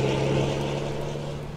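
Volvo truck engine in Euro Truck Simulator 2, fitted with an air-suspension mod, revving under acceleration as a steady loud drone with a strong low hum, alone and without talk.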